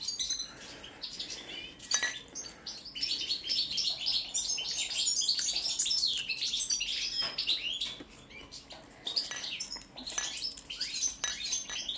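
Balkan goldfinches (Carduelis carduelis balcanica) in an aviary keep up a busy, high twittering song with tinkling, clinking notes, several birds chattering at once, fairly close, with brief pauses and no talking.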